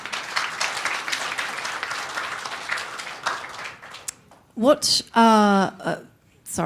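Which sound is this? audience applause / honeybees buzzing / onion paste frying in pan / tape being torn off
audience applause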